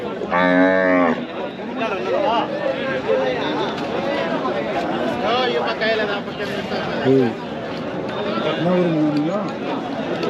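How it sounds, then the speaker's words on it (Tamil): Cart bulls at an open Friday cattle market in Kuntharapalli, Krishnagiri, with a loud close moo at the start and another short low call later, amid constant chatter and a voice talking over the crowd. "வேறு லெவலில் வண்டி மாடுங்க, அது தரமான வண்டி மாடுங்க."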